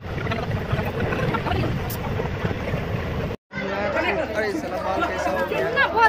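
A crowd chatters at Janakpur railway station in Nepal as people board a train: a loud, dense babble of many voices, broken by a brief cut in the middle.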